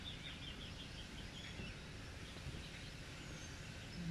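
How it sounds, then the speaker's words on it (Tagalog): Birds chirp and call near a river where a man fishes with nets, thin high calls scattered over a steady outdoor wash of background noise, fairly faint and distant, with no talking. "Yung mga ibon doon."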